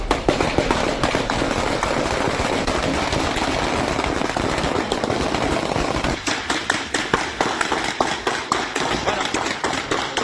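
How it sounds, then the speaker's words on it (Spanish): Night gunfire from long guns, handguns and automatic and non-automatic weapons during a shootout in Chile, heard as dense, rapid cracking bursts, distant-sounding and continuous, turning into sharper separate pops toward the end. "Son balazos con armas largas, cortas, automáticas, no automáticas"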